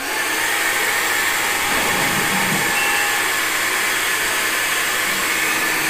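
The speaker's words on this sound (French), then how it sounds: "Ventilo et un chauffe vitesse puissance 2, le chauffage" An electric fan heater runs with its fan and heat at full power, giving a steady, loud, even roar of rushing air that does not change throughout.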